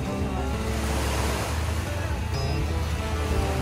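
Steady surf at a Bali beach, waves breaking close by in a continuous loud wash with wind across the microphone, no voices.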